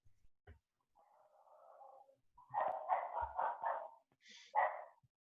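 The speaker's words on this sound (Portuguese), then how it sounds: "Tem um cachorrinho latindo aí, galera?" A small dog yaps somewhere off in the background during an online class, first a faint whine, then a burst of several quick, thin barks and one last sharp yelp, all fairly quiet.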